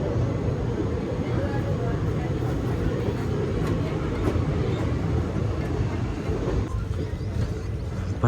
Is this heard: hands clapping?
no